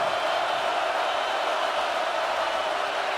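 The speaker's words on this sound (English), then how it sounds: "Crowd as loud as it's been all night." A packed stadium crowd at an Ohio State football game roars in a steady, loud, dense wash of cheering and noise, with no distinct voices standing out.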